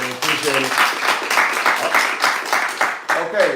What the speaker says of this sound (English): give a round of applause for Jason Matthews